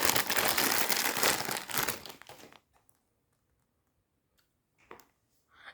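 Crinkly plastic blind box packaging for a Labubu collectible being torn open, a loud dense crackling rustle for about two seconds that stops abruptly, followed by near silence with a couple of faint small taps.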